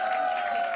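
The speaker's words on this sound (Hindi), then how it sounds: "एक बार जोरदार तालियां हो जाए दोस्तों।" Studio audience applause at a comedy game show, a brief and fairly faint wash of steady clapping with no break.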